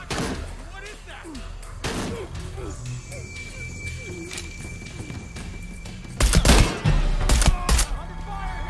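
Gunfire erupts in Shadow of the Tomb Raider, a few sharp shots early then a heavy close burst of rapid firing near the end, amid shouting voices and ambient rumble.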